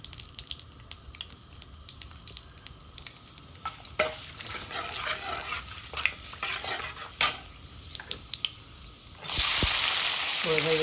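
Whole spices (cinnamon, cardamom, black pepper, fenugreek, bay leaf) sizzle in hot oil in a kadai while a utensil scrapes and stirs in scattered clicks, ending in a louder burst of frying.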